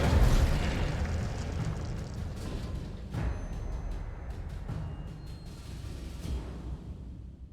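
A fire spell is cast over and over in the wizarding game Hogwarts Legacy, giving a rolling roar of flame with sharp bursts and whooshes that fades toward the end.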